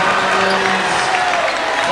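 A high school basketball crowd in a gym roars and applauds after a three-pointer, a steady wash of cheering under an announcer's commentary.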